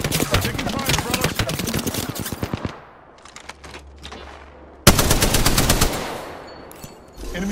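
Gunfire in the video game Apex Legends: loud, rapid automatic bursts, then a brief lull with scattered distant shots, followed by another close burst of sustained fire.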